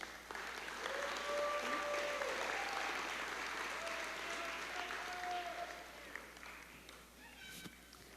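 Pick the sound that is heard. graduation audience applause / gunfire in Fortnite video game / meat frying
graduation audience applause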